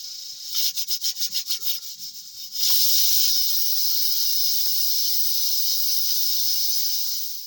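Pressure cooker venting steam while jackfruit boils: a couple of seconds of soft rhythmic rubbing strokes, then a loud, steady, close hiss that runs unbroken for about five seconds.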